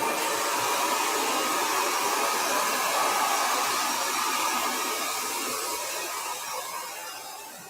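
A blow dryer runs on short natural hair during a wash-day styling session, a loud steady close whoosh of rushing air that fades slightly toward the end.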